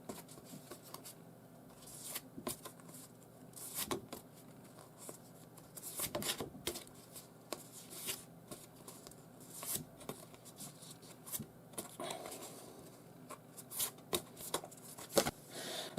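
Stiff art cards printed with original US poster artwork are handled and shuffled from a horror Blu-ray media book, giving a run of light papery slides, flicks and taps, close and fairly quiet, with no talking.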